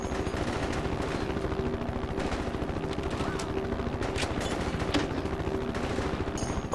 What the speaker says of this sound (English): Let's bring that automatic weapon up here to the front.